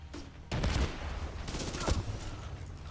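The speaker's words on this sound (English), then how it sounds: "Taking heavy fire" Heavy automatic gunfire in Tom Clancy's The Division 2, dense rapid bursts of shots close by, loud and continuous after a brief quieter opening, with a heavy blast near the middle.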